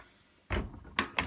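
A tumble dryer door with a homemade draught-excluder seal is pushed shut: a soft thud followed by two sharper knocks as it is pressed closed, near and alone.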